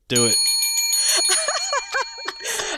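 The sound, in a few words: podcast intro bell ringing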